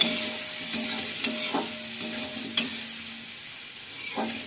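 Turmeric frying in a pan for a vegetarian potato and pointed gourd curry, a steady close sizzle broken by several sharp scrapes of a spatula stirring through the spice, with no talking.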